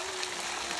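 Water pours steadily from a spout in a constant, even rush of flow, close by and with no break.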